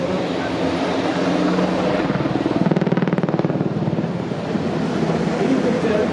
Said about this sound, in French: regardez, mesdames et messieurs, l'impressionnante bascule de cet hélicoptère